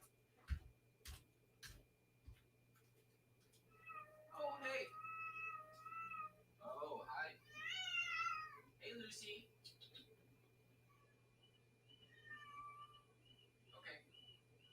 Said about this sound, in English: there's a kitty probably out in the backyard